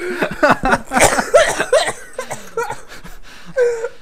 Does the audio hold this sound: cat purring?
no